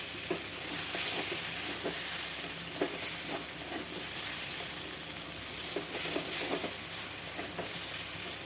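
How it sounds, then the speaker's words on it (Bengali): Spice paste of garlic and green chili frying and being stirred in a pan for a kharkhol curry: a steady close sizzle and hiss throughout, with light scraping clicks from the stirring at irregular intervals. "দেখুন এরকম ভাজতেই থাকবো আমি"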